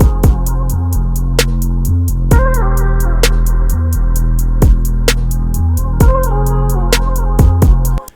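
An R&B beat made in Logic Pro X loops loud and steady, with a deep moving bass line under repeated high-hat ticks, short high melodic notes and regular kick hits, and no voice over it.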